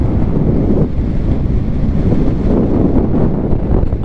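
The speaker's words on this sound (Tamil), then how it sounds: "இங்கே பார்த்தீங்கன்னா தெரியுங்க, தண்ணி சூப்பராக போயிட்டுருக்கு கீழே." A mountain stream rushes below a roadside where landslides occur in Jammu and Kashmir on a Ladakh ride: a loud, steady broadband roar of flowing water mixed with gusty wind buffeting, continuous throughout with no voices.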